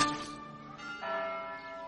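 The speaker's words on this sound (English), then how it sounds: "Suddenly, the kingdom bells began to chime." Kingdom bells chiming in a Frozen Fever read-along, a few bright bell strikes ringing out with long shimmering decay, moderately faint and heard alone without voices.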